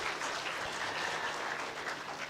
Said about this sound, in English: please, once more, applause for Stephen.